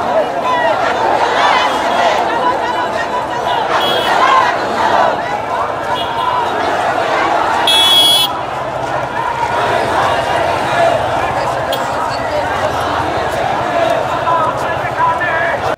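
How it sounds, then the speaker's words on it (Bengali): Crowd of BNP party activists at a rally in Naya Paltan, Dhaka, chants slogans in loud, steady rhythmic waves, heard beneath a reporter speaking throughout. "ঢাকা মহানগরের প্রতিটি থানা ও ওয়ার্ড নেতাকর্মীরা ব্যানার ফেস্টুন নিয়ে সমাবেশ স্থলে উপস্থিত হয়ে স্লোগান দিচ্ছেন"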